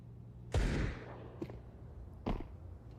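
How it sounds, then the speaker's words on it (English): A Desert Eagle pistol shot from Counter-Strike rings out in a pro CS:GO match at the StarLadder Budapest Major, one loud sharp report followed by a softer crack and a second strong bang, over low game ambience. "Deagle rings out and hits Che this time around."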